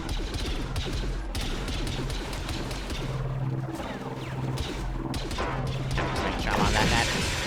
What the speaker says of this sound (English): you're hearing that gunfire